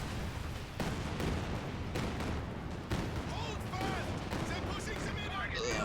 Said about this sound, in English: Incoming rockets!